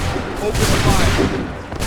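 Sustained, dense gunfire volley from massed musket lines during a battle in the video game Assassin's Creed 3, loud and continuous with overlapping shots and booms, with faint voices mixed beneath the roar.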